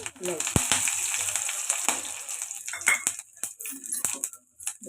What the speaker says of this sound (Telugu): ఇప్పుడు అదే ఆయిల్లోని మసాలా దినుసులు వేసుకుందాం